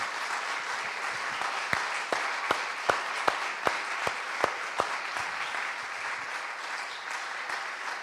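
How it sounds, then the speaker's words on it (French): A church congregation stands and applauds loudly during a French-language worship service, a dense continuous wash of clapping with a few sharp, louder individual claps standing out in a steady rhythm early on. "je vous invite à vous lever et applaudir très fortement notre Seigneur et notre invité"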